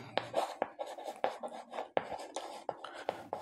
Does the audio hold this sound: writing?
yes